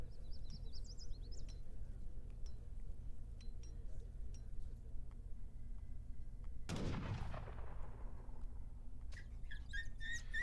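Town centre gunfire in Age of Empires 3 erupts as one sharp blast with a fading crackle, set among scattered small game clicks and chimes during a championship match.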